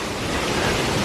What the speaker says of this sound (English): you hear that rain?